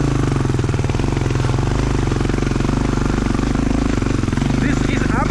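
Honda XR400 motorcycle idling uphill in second gear on a steep section, a loud, close, rhythmic single-cylinder thump chugging steadily throughout, with brief talk over it.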